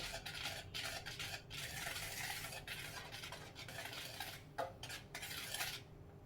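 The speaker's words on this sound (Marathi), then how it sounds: "पुन्हा एकदा मिक्स करून घेऊया" A spoon mixes fruit jam biscuit dough ingredients with baking powder and cardamom in a bowl, making repeated close scraping and clinking strokes against the sides, busy and rhythmic with brief pauses; no talking.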